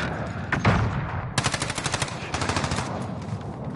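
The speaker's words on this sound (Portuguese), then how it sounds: "Eu estou a ouvir snipadas e tudo e mais alguma coisa" Gunfire in the video game Call of Duty Warzone, including sniper shots: a sharp burst around the half-second mark, then a long rapid volley of loud cracks and a second quicker run of shots, fairly close and with no talking.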